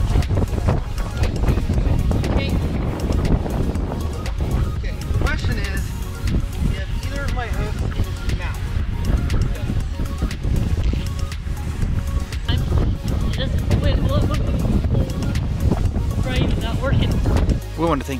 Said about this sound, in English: We apologize for the wind